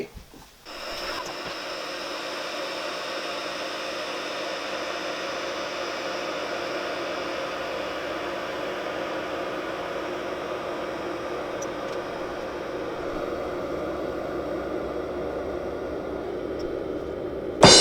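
Water with lemon boiling in a kettle to remove limescale, a steady hiss and rumble of bubbling that holds evenly throughout with no talking.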